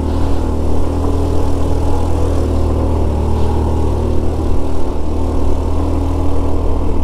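Small motorcycle engine climbing a steep mountain road near Mount Olive Viewpoint in Baguio, a loud, steady low drone with constant wind rush, heard close and continuous without speech.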